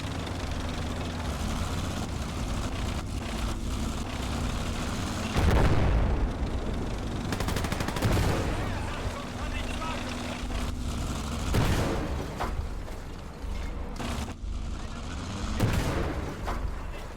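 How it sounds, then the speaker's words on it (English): Anti-tank gun fire and explosions from the game Call to Arms: Gates of Hell, set on the Eastern Front, boom repeatedly at irregular intervals over a constant rumbling battle din, with several loud close blasts. "Schwerer Panzer meldet Panzerabwehrbeschuss"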